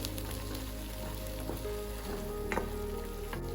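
Chopped raw tomatoes simmer in oil in a pan on a low flame for chutney, making a constant close hiss like light rain with a few faint pops, and no talk.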